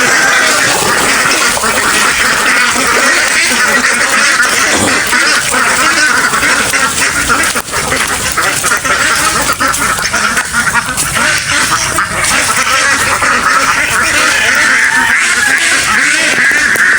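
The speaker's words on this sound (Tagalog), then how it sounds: "Ito yung mga itik ng pinsan ko." A large flock of ducks quacks loudly and continuously close by, a dense overlapping chorus with no pauses.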